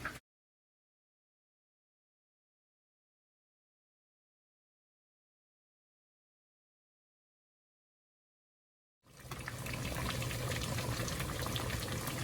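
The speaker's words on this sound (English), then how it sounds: "So as you can see, guys, my peas is cooking." A pot of peas for Jamaican rice and peas bubbles on a stove, a steady, fairly loud boiling wash that starts abruptly near the end after a long stretch of silence.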